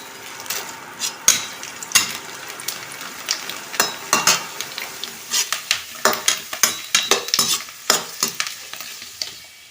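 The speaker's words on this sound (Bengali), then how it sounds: "কালারিং পাঁপড় ভেজে নিলাম, একটু ব্ল্যাক পাঁপড় ভেজে নিই।" Papad, coloured and black varieties, frying in hot oil, with loud crackling bursts and metal utensil clicks and taps repeating close by.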